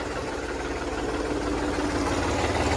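A New Holland tractor engine idles steadily nearby, a continuous rumbling drone with even loudness throughout and no voices.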